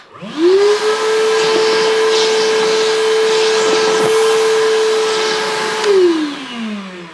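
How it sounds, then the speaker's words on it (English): An Evolution R11VAC-Li 18V cordless wet and dry vacuum spins up in a workshop, runs with a loud, steady whine and rushing suction for about five seconds, then winds down, with no talking. "As far as vacuuming goes, it does what it's supposed to do. It seems to have quite a lot of suction."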